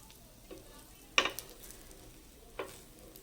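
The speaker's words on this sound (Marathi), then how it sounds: "हे बघा, मागच्या साईडने पण 1 मिनिट भाजून घ्यायचा।" A set dosa cooks on a hot pan after being flipped, with a quiet continuous sizzle and a few sharp metallic scrapes and taps from a spatula.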